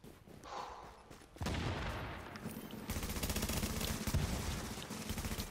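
Rapid bursts of enemy gunfire in The Division, with dense automatic shots erupting after a quieter opening and continuing loud and sustained to the end.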